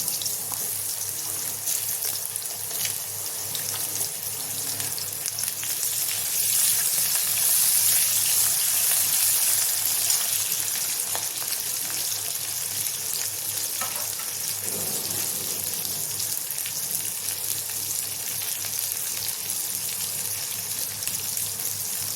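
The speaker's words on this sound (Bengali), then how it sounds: "ফোড়নটা হয়ে গেছে, কেটে ধুয়ে রাখা আলু দিয়ে দিচ্ছি।" Cut, washed potatoes hit hot oil tempered with dried chilli, whole cardamom, cumin and bay leaf, giving a steady, loud broadband sizzle that holds for the whole stretch with a brief stir or clatter midway.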